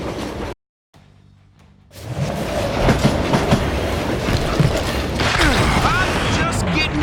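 A train rolls along in the video game Call of Juarez: Gunslinger, opening with a short break and dull rumble, then a loud, close clattering of wheels and carriages with metallic clanks and squeals.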